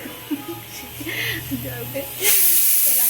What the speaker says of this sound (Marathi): इकडे कुकरच्या शिट्टीमधून पाणी जात होतं